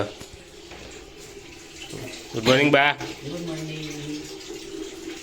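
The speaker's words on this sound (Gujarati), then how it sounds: "પાણી મૂકી દીધું નાહવા માટે." Tap water runs steadily into a bath at home in the morning, a continuous hiss and gush that carries on under a brief spoken greeting.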